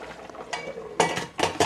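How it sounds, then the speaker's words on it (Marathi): A metal pressure cooker lid being fitted onto the pot: a few sharp metallic clanks and scrapes, close and fairly loud, in quick succession. "आता आपण कुकरचं झाकण लावूयात."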